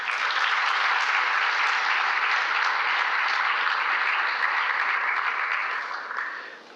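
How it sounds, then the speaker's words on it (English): A hall audience at a youth charity launch event breaks into sustained applause, a dense, even wash of many hands clapping together that holds steady for several seconds before tapering off at the end. "So how about a big round of applause for all of us?"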